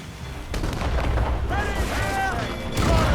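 Ship cannons booming in a naval battle in Assassin's Creed Rogue, heavy blasts and rumbling impacts with shouted voices over the top, a fresh loud burst near the end.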